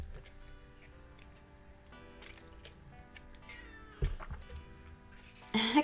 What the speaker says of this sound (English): A cat is crying